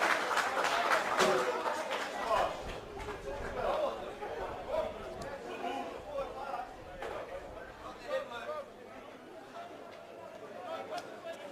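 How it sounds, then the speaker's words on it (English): Spectators at a schoolboys rugby league match raise a chorus of shouts and chatter, loud at first and then easing into a steady crowd murmur, with a commentator talking over it. "Cries of forward in the crowd, and the referee agreed."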